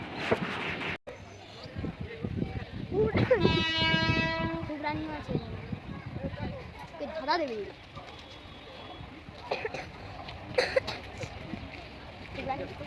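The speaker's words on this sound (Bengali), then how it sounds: "এখন আমাদের ট্রেন ঢুকে গেছে" A passenger train pulls into Pandaveswar station, and a strong horn-like tone rises over the platform din. Close voices talk throughout, with pigeon-like cooing and rumbling in the background.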